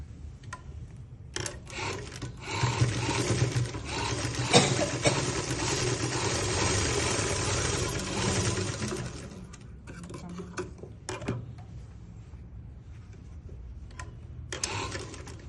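A sewing machine stitches a shirt in rapid mechanical bursts. A long continuous run is followed by shorter stop-start passes, close and clear, with no talk.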